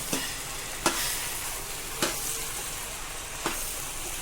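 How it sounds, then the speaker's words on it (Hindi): Masala pasta being stirred in a frying pan, a steady sizzling hiss broken by four sharp scrapes of the spoon against the pan, close and alone with no voices. "अब इसको अच्छे से मिक्स करेंगे।"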